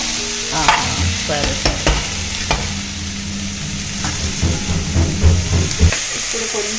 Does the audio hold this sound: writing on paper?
no